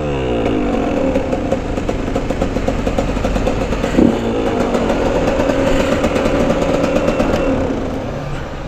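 A KTM motorcycle engine drones loud and close, holding high steady revs with rising and falling pitch sweeps and mechanical clatter, no voices.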